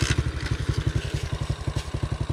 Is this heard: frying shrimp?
no